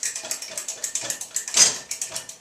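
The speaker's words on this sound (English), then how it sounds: "So I just hold it like this, and I pump it, and I give it a minute, and I pump it" A hand pump pressurizes an off-grid pressure lantern with a steady run of close, rhythmic squeaky mechanical strokes, about four per second, plus one brief hiss partway through.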